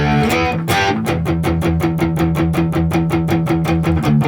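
A distorted electric guitar chugs the main power chord riff of a rock song, opening with two ringing chords before rapid, evenly spaced palm-muted strums, loud and close.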